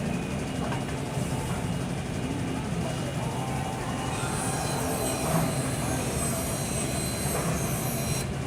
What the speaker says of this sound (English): we've seen Donald run through the bandsaw